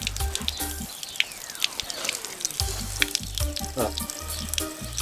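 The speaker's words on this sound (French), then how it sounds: "On va laisser l'eau s'écouler du robinet" Water drains out of a rust-flecked fuel tank after being rinsed with tap water, trickling and splashing in uneven bursts with scattered close drips and gurgles.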